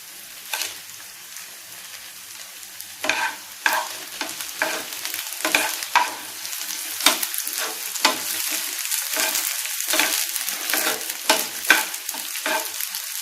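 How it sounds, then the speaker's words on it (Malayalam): Dried red chillies sizzling in oil with sautéed onions, a continuous crackling fry punctuated by frequent sharp stirring scrapes and spatula knocks, close and clear with no talk. "ഇനി നമുക്കിതിലേക്ക് നമ്മുടെ വറ്റൽമുളക് ഇട്ട് കൊടുക്കാം."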